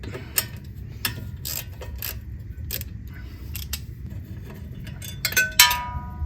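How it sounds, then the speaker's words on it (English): Small metal clicks and ratcheting taps sound during work removing the hub assembly bolts on a Nissan GT-R, ending with a bright metallic clatter of a bolt being dropped. "Dropping bolts."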